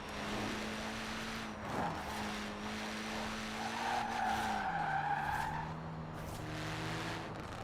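A car in a racing video game, pushed to high speed, holds a steady droning engine note while its tires skid and squeal, loud and continuous with no voices.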